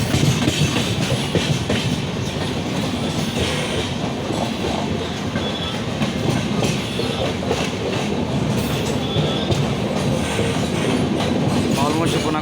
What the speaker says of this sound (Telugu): సో ఇప్పుడు వెళ్తున్న ట్రైన్ ఏంటంటే వైజాగ్ వెళ్తుంది కొల్లం నుంచి